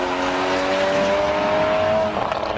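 A Porsche race car with a boxer engine climbs a hill-climb course at a motor festival, the engine note holding a steady, close pitch for about two seconds before cutting away.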